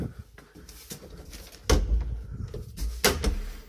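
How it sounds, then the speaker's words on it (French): A door swinging open on its own indoors, with a couple of sharp knocks and thuds against a noisy background, fairly loud and close. "Ma porte s'est ouverte toute seule."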